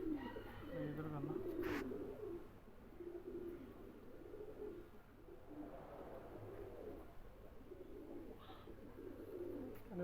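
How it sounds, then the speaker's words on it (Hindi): Two male pigeons, a Magar and a Salara Teddy, coo in low, throaty rolling phrases close by, repeating through the clip with faint background noise and a soft chirp or two. "लो प्यारे भाई, ये दो नर है माशाल्लाह से। एक मगर कबूतर है, ठीक है, एक ये सलारा टैडी है।"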